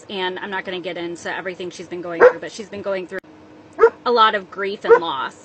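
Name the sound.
dog barking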